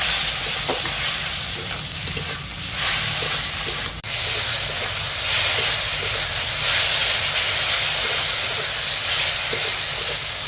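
Spice paste with turmeric, chilli powder, salt and tomato sizzles and hisses in a pan, loud and continuous, with occasional scraping of stirring over the frying.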